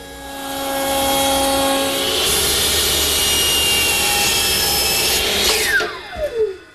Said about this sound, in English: The top edges of each rail, I'm using a portion of a 1-inch radius router bit in my router table.